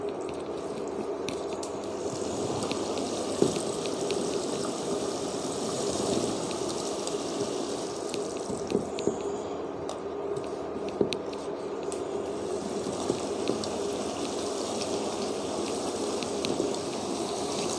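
Potatoes dropped into spiced oil in a pan set off a steady, moderate sizzle and crackle, with scattered sharp pops and small knocks as pieces go in, no voices.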